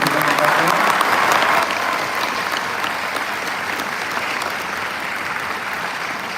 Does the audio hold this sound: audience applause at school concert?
yes